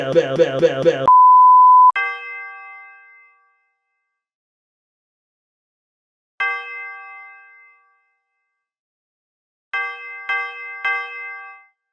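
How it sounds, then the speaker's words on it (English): A bell rings in a song's instrumental, one long ringing tone followed after pauses by a single clear strike and then a quick cluster of three, each decaying cleanly into silence. "Then we have the bell."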